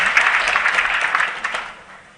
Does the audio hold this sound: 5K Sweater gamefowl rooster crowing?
no